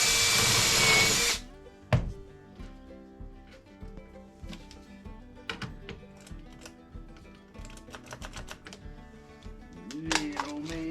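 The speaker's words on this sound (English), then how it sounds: "So now I'll countersink here." A cordless drill countersinks a hole in trailer wood, whirring loudly for just over a second before stopping, then scattered light clicks and handling noises follow in relative quiet.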